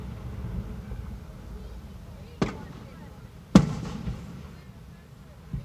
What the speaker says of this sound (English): when you got fireworks going off like this, it's really hard